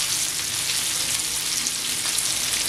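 Karli fish fry in a hot pan, second side cooking, with a dense, steady, loud sizzle throughout and no talking.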